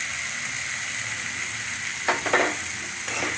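Spices with chopped tomato, salt and turmeric frying in a pan give a steady, close sizzle, broken by a few quick stirring scrapes near the end.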